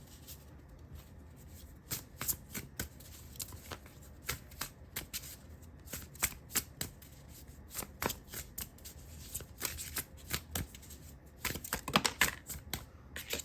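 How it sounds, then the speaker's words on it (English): Cards being shuffled repeatedly, with crisp riffling bursts and soft snapping bounces coming in irregular waves, close up and with no talking. "let us shuffle the cards and see what comes out for you"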